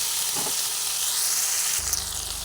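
Okra (bhendi) frying in hot oil in a home kitchen, a steady soft sizzle and hiss running throughout with a slightly brighter crackle near the end, close and alone without talk.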